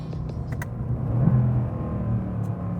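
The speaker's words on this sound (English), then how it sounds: "Here, let's do a nice downshift over here." Car engine dropping a gear on an LA street, a steady low rumble that swells briefly as revs rise mid-shift, then settles back to an even drone, close and moderately loud with no talk.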